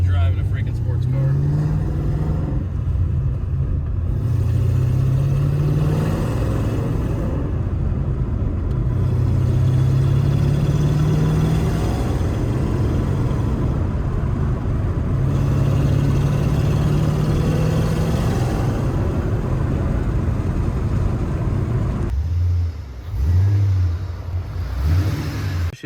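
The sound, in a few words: Cummins dump truck engine revving with exhaust clips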